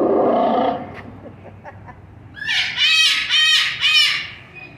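Startled birds in a park break into a burst of loud, harsh squawking calls, four or five close rhythmic cries following a brief rumble and quiet pause.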